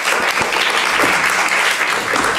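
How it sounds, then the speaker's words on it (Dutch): An audience gives steady, loud applause for guest speaker Wouter van Noort, a dense unbroken patter of many hands clapping throughout. "Mag ik een applaus voor Wouter van Noord"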